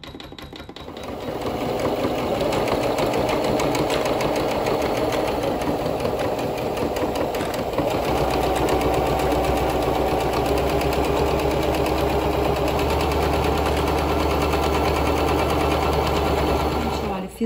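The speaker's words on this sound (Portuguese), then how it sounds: "a gente vem na máquina e faz uma costura de pesponto aqui" An electric sewing machine runs continuously for topstitching a football boot bag, a close, steady whirring motor hum with rapid needle chatter sustained for over fifteen seconds.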